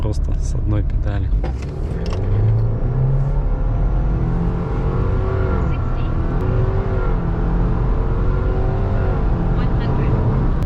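A Subaru Forester SK5 with a 1.8 turbo accelerating hard from a standstill, engine droning loudly and climbing through the revs with a shift dip, heard from inside the cabin while the driver talks throughout.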